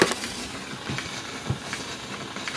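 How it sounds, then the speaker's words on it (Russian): A faint, steady hiss with scattered soft clicks and crackles from a gramophone record's surface noise before the music starts. "Шум пластинки самой"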